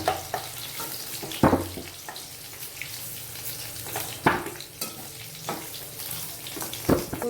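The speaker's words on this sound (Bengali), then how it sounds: "ওতে ফোড়নটা দিয়ে দেবো শুকনো লঙ্কা, তেজপাতা, একটু চিনি আর গোটা জিরে" Dry chillies, bay leaf, sugar and whole cumin temper in hot oil, producing a continuous close crackling sizzle broken by a few sharp spattering bursts, with no voices.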